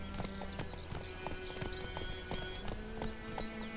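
A horse gallops in The Witcher 3 with steady, rhythmic clip-clop hoofbeats, close and continuous, and a faint whinny within.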